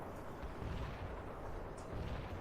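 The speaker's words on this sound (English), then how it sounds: "Artillery strike for your protection, sir." An artillery strike lands in the video game World in Conflict as faint, distant rumbling booms roll low and continuous, with no voices over them.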